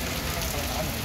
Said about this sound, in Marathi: मी जरा पावसात निघालो